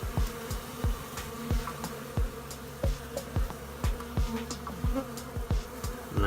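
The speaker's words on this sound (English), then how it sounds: "Look at all those bees with pollen on their legs." A dense buzz of honeybees nesting in a brick wall hums steadily throughout, with repeated low thumps and soft clicks scattered across it, close and fairly loud.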